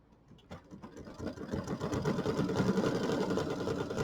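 A sewing machine stitches through thick vinyl layered on a small quilt, its motor starting after a brief pause and settling into a steady, close, rapid whirring hum.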